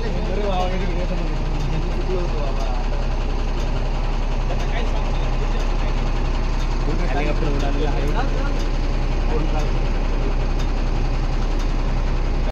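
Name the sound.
fire tender truck engine idling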